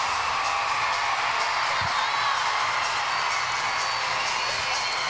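A gymnastics meet crowd at the US Classic keeps up a steady roar of cheering and whooping. It fills the whole stretch as a dense, far-off wash with no clear breaks.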